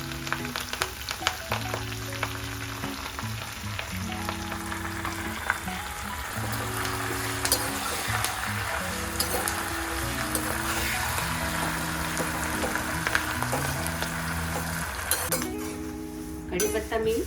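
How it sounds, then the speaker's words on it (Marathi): Washed curry leaves frying in hot oil, a continuous crackling sizzle with occasional clinks of utensils against the pan, while background music plays underneath. "कढीपत्ता मी तळून घेतलेला आहे"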